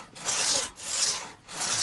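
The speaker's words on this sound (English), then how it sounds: "then they would start with the crosscut saw" A crosscut saw cuts into a tree with rhythmic rasping strokes, three long back-and-forth pulls close by, each swelling and fading in a steady cycle.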